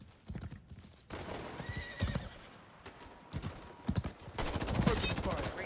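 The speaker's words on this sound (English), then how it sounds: "No, stop shooting my horse." A horse gallops and neighs in a competitive 5v5 shooter game, hooves clip-clopping rhythmically with sharp whinnies over game effects and gunfire bursts, a player's voice talking over the action.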